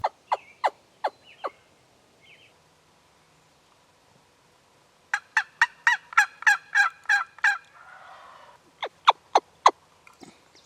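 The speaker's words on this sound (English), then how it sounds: "a tom gobbled right back at us less than 70 yards away" A wild turkey tom gobbles from under 70 yards away in repeated bursts of sharp rattling notes, with short bouts at the start, a long rapid volley in the middle and another run near the end, loud against a quiet outdoor background.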